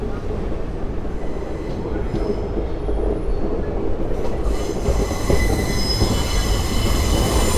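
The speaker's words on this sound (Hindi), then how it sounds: "रेड लाइन मेट्रो जा रही है।" Delhi Metro Red Line train passing overhead, a steady loud rumble of wheels and carriages with high metallic wheel squeal rising in the second half, continuous throughout.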